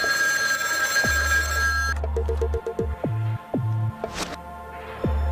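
An old-style telephone bell rings steadily for about two seconds in a film scene, followed by a series of short, sharp electronic tones and clicks against a low hum.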